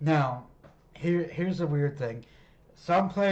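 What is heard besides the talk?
No everyday noises stand out.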